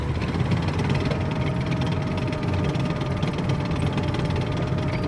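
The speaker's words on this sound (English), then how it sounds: "Military tank, a heavy vehicle with armor and a big cannon." A heavy military tank engine rumbles steadily with a dense, continuous low drone and a mechanical knocking undertone, holding constant loudness throughout with no pauses.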